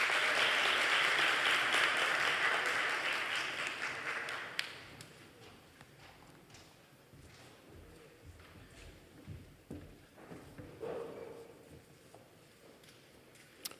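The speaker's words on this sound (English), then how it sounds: "let us give all of our student scholars a resounding round of applause" An audience at a university scholarships and awards day gives sustained applause for student scholars, loud clapping for about four seconds that then stops abruptly, followed by quiet room noise with scattered taps and shuffles.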